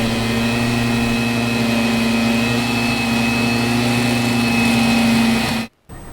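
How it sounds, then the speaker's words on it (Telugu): Steady, loud drone of a small motorbike engine driving a bike-mounted mobile flour mill, running at constant speed with a strong low hum and whine, then cutting out abruptly near the end. "ఈసారి బైక్ కు పిండి మర అమర్చి అందరి మన్ననలు పొందుతున్నాడు"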